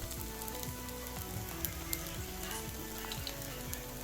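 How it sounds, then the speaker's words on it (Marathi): Thalipeeth fries in ghee on a hot griddle, giving a steady, close sizzle that runs unbroken, with faint crackles and a low tonal hum underneath. "थालीपीठ असं मी तव्यावर टाकून घेतलं आहे"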